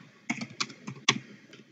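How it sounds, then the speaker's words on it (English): Keys clatter on a computer keyboard while searching for Power BI in the Microsoft Store, a few quick close clicks followed by a sharper, louder enter press and one last light tap. "press enter on the keyboard"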